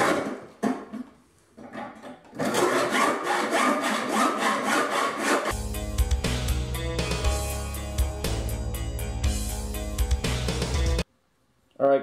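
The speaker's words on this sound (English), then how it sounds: "Now I'm going to get my hacksaw and cut off as much metal as I possibly can" A hacksaw cuts metal for a friction folder knife blade in rapid back-and-forth rasping strokes, close and loud, with a pause before the sawing resumes and runs steadily, ending in a brief stop.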